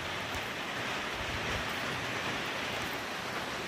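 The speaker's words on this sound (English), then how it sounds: "I know it's raining" Steady rain pouring down outdoors at a cement pad pour site, a dense, even hiss with no letup and no voices.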